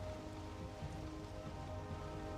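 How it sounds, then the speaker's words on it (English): Rain in a video game pours as a faint, even, continuous hiss that holds steady throughout, with no voices. "if I go into the plains, then the rain stops."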